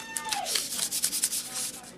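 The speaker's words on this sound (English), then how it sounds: "So, get your little piece of sanding paper." Close, steady scratchy rubbing of sandpaper on a model rocket fin in short back-and-forth strokes, fairly soft, with no talking.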